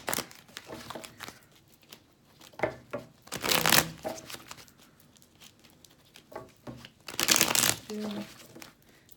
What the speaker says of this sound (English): I'm going to do that last shuffle